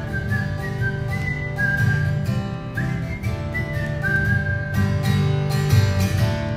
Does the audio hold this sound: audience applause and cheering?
no